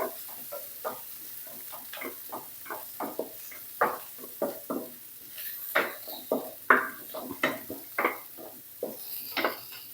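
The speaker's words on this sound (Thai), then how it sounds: "ผัดไปเรื่อยๆค่ะ ไฟอ่อนๆกันด้วยค่ะพี่น้องเพราะว่าจะผัดพร้อมกระเทียมนะคะ" Shrimp fried rice with garlic being stir-fried over low heat in a pan, with a steady run of close spatula scrapes and metallic clinks against the pan in an irregular rhythm.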